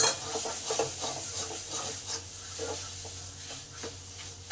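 Paneer being mixed with potatoes in a pan for a vegetarian omelette curry, a steady scraping and rubbing of a spoon with faint sizzling underneath, close and continuous, with no voices.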